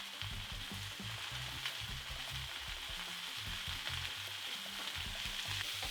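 Mushrooms fry in oil in a pan with a steady crackling sizzle, close and fairly quiet, punctuated by soft low stirring clatters and no talking.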